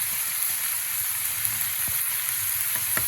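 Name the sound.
chili powder and turmeric stirred in frying pan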